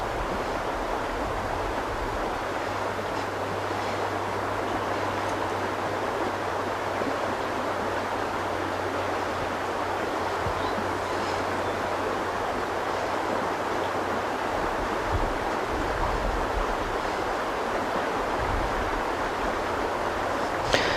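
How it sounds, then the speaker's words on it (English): Steady broadband rush of the Uinta River flowing, constant and fairly close, with a low hum underneath for much of the stretch and no voices. "Today we're down by the Uinta River checking out one of the tribe's many resources."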